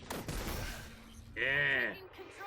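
A small defense turret firing at a wall in Halo 4, with a rapid burst of shots early, then a sustained whirring electronic tone, heard alongside loud game effects.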